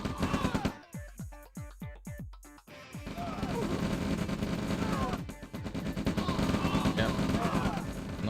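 Rifle fire in the real-time strategy game OpenRA, a rapid burst of several sharp shots followed by dense overlapping gunfire and explosions, with someone commentating over it.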